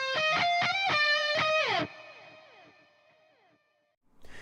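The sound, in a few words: electric guitar solo harmonies with Renaissance EQ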